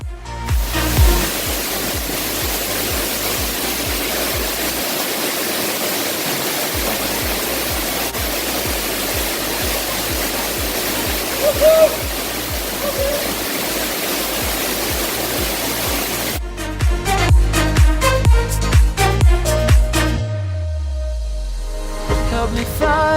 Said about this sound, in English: here I'm trying to get under the waterfall, but the pressure was quite strong